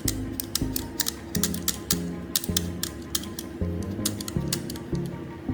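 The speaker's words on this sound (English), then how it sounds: "take a utility knife and scrape firmly across the chip surface to remove the coating layer" A utility knife scrapes firmly across an old phone chip to remove its coating, giving repeated short rasping strokes in a quick uneven rhythm, close and fairly quiet.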